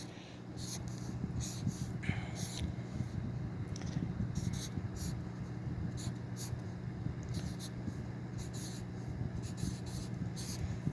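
A pen scratches across paper while someone writes out math by hand and holds the camera in the other hand, making close, soft strokes in short irregular bursts over a low steady background.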